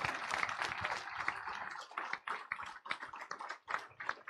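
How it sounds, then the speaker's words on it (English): A church congregation applauds, close and lively bursts of hand clapping that swell at first, then thin into uneven, choppy claps and trailing taps. "Let's give the Lord another round of applause for leadership's fire class."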